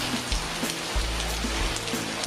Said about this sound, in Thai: ทำให้น้ำฝนตกลงสู่พื้นโลก